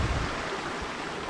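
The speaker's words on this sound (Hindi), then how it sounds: "ये देखिए, यहाँ पर एक छोटी सी रिवर बहती हुई आ रही है" A small river flows past a homestay garden in Ramgarh, Uttarakhand, making a steady close rushing of water with no talking.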